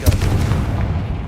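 A Confringo explosion spell in the video game Hogwarts Legacy lands as a single loud, deep blast, a heavy booming burst that rolls off into a rumbling decay over about a second.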